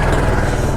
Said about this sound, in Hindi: मैं अपनी बाइक बंद कर लेता हूँ